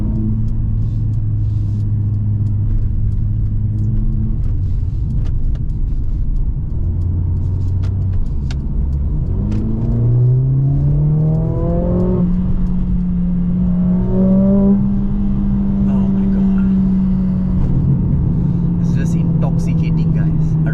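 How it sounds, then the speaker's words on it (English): Mercedes-AMG CLA45S 4Matic+ engine accelerating from inside the cabin, a deep droning hum that climbs in pitch through several gear changes, steady and prominent with road rumble underneath. "I don't know whether you guys can hear the engine sound, but the way it pulls"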